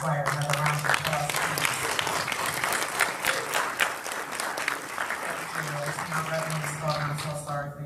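An audience applauds at a Cleveland conversation-series event, dense sustained clapping filling the room before slowly thinning toward the end, with some voices mixed in.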